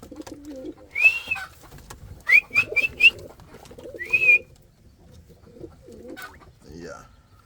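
Indian fantail pigeons coo in a loft, soft low throaty coos repeating in irregular bursts, nearby, mixed with brief whistling chirps and a person's voice.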